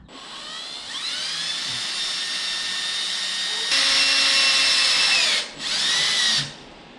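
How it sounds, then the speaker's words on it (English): A high-pitched power drill whines steadily for several seconds drilling a titanium bike frame, rising in intensity midway, then briefly stops and spins up again before cutting off. "I'm gonna have to drill the new one"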